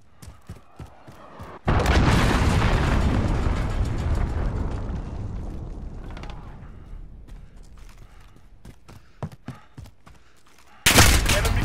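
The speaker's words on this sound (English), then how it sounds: "Enemy cruise missile incoming." A cruise missile detonates in Call of Duty: Modern Warfare as a sudden loud boom with a long roaring rumble that slowly fades over several seconds, framed by sharp gunfire cracks before and after and another burst near the end.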